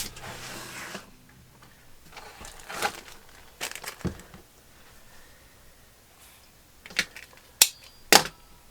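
A rotary cutter slices quilt fabric into blocks for a baby quilt, giving a scattering of short, crisp crunching strokes at uneven intervals, close and fairly quiet between cuts, with no speech.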